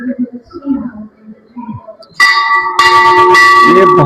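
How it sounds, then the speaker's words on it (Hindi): A gate hung with many temple bells at the Durga Mata temple in Devsar village, Bhiwani, bursts into loud, continuous metallic ringing partway through, after a quieter stretch of soft background voices. "ये बहुत शानदार घंटियां हैं, जग रही है।"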